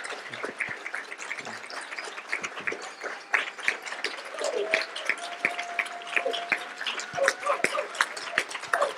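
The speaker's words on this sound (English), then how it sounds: "Can we please just give a last round of applause to these people who have spoken so much?" At the close of a conference panel, an audience gives a sustained round of clapping, steady and moderately loud throughout, with a few scattered voices mixed in.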